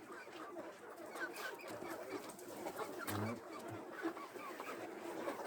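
Hens clucking and cooing softly in a crowded coop, a steady murmur of many birds with occasional louder calls.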